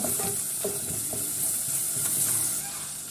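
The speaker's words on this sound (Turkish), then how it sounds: "unun salçanın kokusu çıkıncaya kadar kavuruyorum" Flour and tomato paste fry in a pot for a tomato vermicelli soup, a loud, steady sizzle broken by regular soft scrapes as the mixture is stirred, with no talking.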